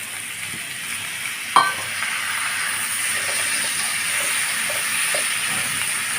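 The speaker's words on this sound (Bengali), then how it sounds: "কেটে রাখা সবজিগুলো দিয়ে আমি একটু কিছুক্ষণ সময় নিয়ে সবজিগুলো একটু ভাজা ভাজা করে নেব" Chopped vegetables with a little turmeric frying in a pan for a fish and water spinach curry give a loud, steady close sizzle, broken by one metal clank and a few soft spoon scrapes, no voices.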